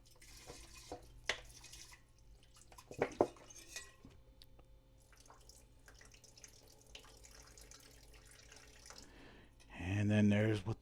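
Distilled water is poured and run over refined gold in a glass beaker, with scattered faint clinks and trickles before a louder rush of running water near the end.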